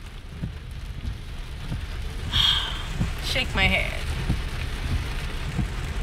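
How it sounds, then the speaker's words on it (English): Steady rain falls outdoors in a Charleston car park by a pool with traffic nearby, a constant broadband hiss throughout while a person sighs and mutters briefly over it. "Now it's raining."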